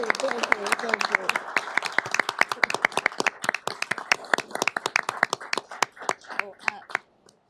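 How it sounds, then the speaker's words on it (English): Applause at a county board of commissioners meeting for a retiring staff member: a small room of people clapping, starting dense then thinning to a few scattered, distinct claps before stopping. "let us give you an applause"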